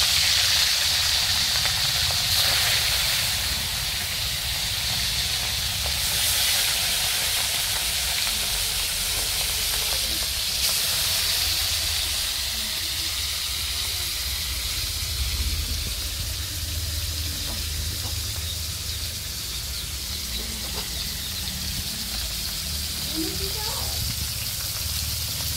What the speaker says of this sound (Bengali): এখন মাছগুলোকে ভেজে নিচ্ছি।